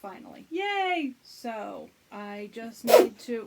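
A single sharp sneeze bursts out near the end, with someone talking about knitting before and just after it.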